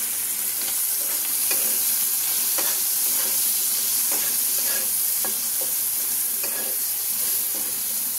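Shrimp sizzling and frying in hot oil with turmeric and salt, for a bottle gourd and prawn dish, a steady close crackling hiss with occasional louder pops and stirring clicks, no talking.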